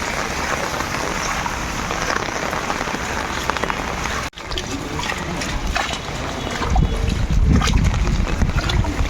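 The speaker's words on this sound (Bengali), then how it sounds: "আর ঝড় হাওয়া দেখো পুরো শেষ করে দিচ্ছে।" A heavy riverside storm drives wind and rain, giving a loud, dense roar of rain beating on surfaces and gusting wind throughout, briefly cut off partway, then swelling with deeper buffeting.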